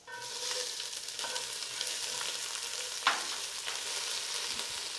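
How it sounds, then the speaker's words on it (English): Garlic and onion sizzle in hot olive oil in a pan, a steady crackling hiss throughout with a brief stirring clatter partway, close and fairly quiet, with no voices. "And I'm adding a tablespoon of garlic, sizzling hot."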